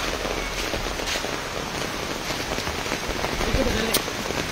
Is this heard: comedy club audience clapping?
no